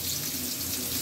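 Potato pieces seasoned with salt and turmeric fry in a pan until reddish, making a continuous, close, crackling sizzle with no talk.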